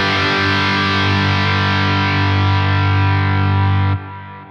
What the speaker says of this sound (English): it sounds just like an amp cranked, you know, like really gunned for it